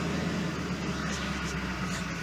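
A 2003 Ford F-250 Super Duty truck engine idles steadily after starting, a low, even hum with no revving, heard from close by inside the cab.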